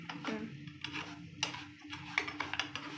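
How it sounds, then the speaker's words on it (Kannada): Semolina frying in a pan with oil and ghee while a spoon stirs it, giving soft scraping and clinking sounds in uneven, close strokes with no one talking. "ನೆಕ್ಸ್ಟ್ ರವೆ ಇದು ಫ್ಲೇಮಲ್ಲಿ ಈ ಥರ ಫ್ರೈ ಮಾಡಬೇಕು"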